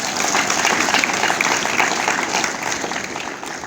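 A church congregation claps together in steady, dense applause that stays loud and fairly even throughout.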